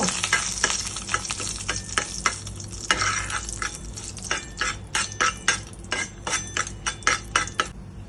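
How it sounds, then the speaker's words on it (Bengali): Dry red chillies frying in hot oil for a Bengali tempering while cooking moong dal with katla fish head, a steady close sizzle broken by rhythmic scraping and clinks of a spatula stirring in the pan. "এবারে শুকনো লঙ্কা দেব ফোড়নে, একটু ফ্রাই হতে দেব, ফ্রাই হবে অল্প।"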